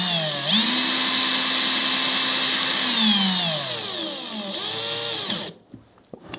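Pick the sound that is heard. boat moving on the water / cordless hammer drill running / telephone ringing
cordless hammer drill running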